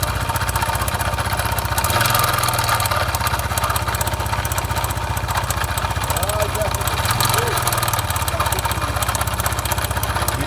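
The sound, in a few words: Biz 125 motorcycle engine accelerating with strange noise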